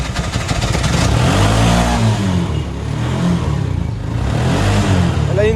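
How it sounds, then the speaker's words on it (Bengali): A used CNG auto-rickshaw engine runs loud and close, its buzzy two-stroke-like drone rising and falling as the throttle is blipped several times. "ইঞ্জিন সাউন্ডটা শুনে আপনি একটু বাড়ি দেন, অ্যাক্সিলেটর বাড়ি দেন।"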